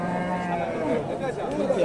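Friesian heifers low and moo at a busy cattle market in Hasokhali, long drawn-out calls overlapping with crowd chatter nearby.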